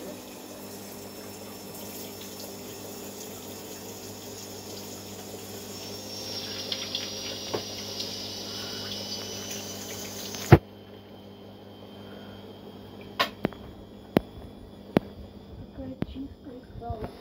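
Water runs steadily from a tap as a doll is washed in a horror video game, a continuous hiss that stops abruptly partway through, followed by a few sharp clicks and knocks in the quiet.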